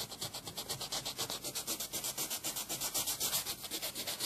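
Hand sanding with 150 grit sandpaper on a DIY inline carbon filter part, quick rhythmic back-and-forth strokes, evenly spaced and close, steady in loudness and with no voices.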